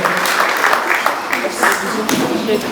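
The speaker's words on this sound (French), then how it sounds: "Je veux que tu acclames encore très fort pour moi." A church congregation applauding and cheering at a service, a continuous loud wash of clapping and voices mixed with speech.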